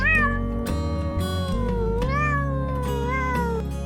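A cat meows several times in a row, close and clear, with rising and falling drawn-out cries and no talking over it.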